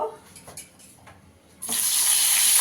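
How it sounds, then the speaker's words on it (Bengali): Aubergine dropped into hot frying oil, already used for fish, bursts into a loud, close, steady sizzle after a quieter lead-in. "এবার এই তেলে আমি একটু বেগুনটা ভেজে নেব।"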